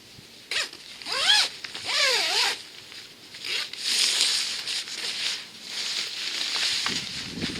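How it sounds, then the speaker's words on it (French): Zippers on a Helsport Fjellduk Pro poncho being pulled closed, a few quick rasping zips in a row, close up and fairly loud, with soft fabric rustling between strokes. "on va devoir également fermer les deux fermetures éclair qui se trouvent à la base du"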